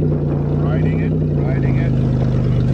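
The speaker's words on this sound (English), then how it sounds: "First gear, always first gear to take off. Slow release." A manual Toyota car pulls away in first gear on a farm with a slow clutch release, giving a steady close low engine hum and drone that rises slightly in pitch, heard alone.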